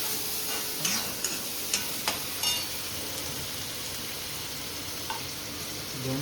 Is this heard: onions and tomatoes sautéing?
yes